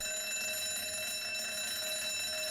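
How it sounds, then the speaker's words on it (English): An alarm clock rings with a steady, fairly faint electronic tone that goes on continuously and unchanged for the whole stretch, heard alone with no talking. "Fierro, it's just an alarm clock, you dope."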